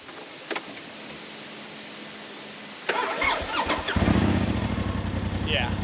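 Polaris RZR Turbo side-by-side engine cranking and catching, then settling into a loud, rough running idle nearby after a few quiet seconds, with faint voices early on.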